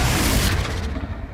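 A Confringo spell explosion in the Hogwarts Legacy game, a dense, loud boom with a low rumbling body that fades over a little more than a second.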